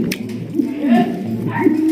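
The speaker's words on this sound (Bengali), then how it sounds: "দেখতে পাচ্ছেন চমৎকার হাই কোয়ালিটির একজোড়া শৌখিন কবুতর" A pair of fancy pigeons coo close by in a soft, repeated, throaty rhythm, heard alone without talk.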